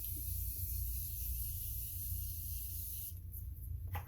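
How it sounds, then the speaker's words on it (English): A facial setting spray is misted onto the face in one close, steady hiss lasting about three seconds, followed by faint rustling, with no talking. "So let me spray my face."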